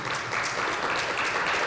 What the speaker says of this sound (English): Let's give a round of applause for Corey.